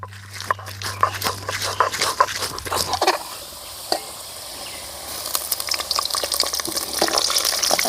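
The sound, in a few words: frying potato pieces in soybean oil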